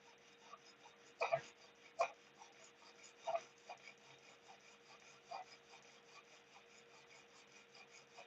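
A knife blade is sharpened, taking material off the edge: faint scraping strokes come at irregular intervals, with a few louder rasps standing out over a quiet, steady background.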